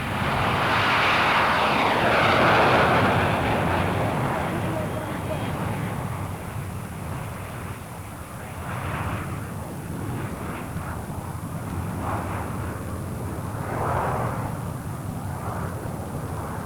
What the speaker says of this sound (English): So Flight Lieutenant Jones leads his team through a series of low-level maneuvers and formation passes, giving the photographers a chance to get some pictures.